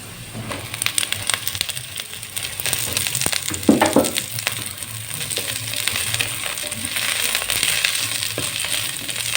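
Chopped cabbage and carrots frying in a pan for white pasta, a low steady crackle with scattered clinks and one louder scrape partway through, no voices.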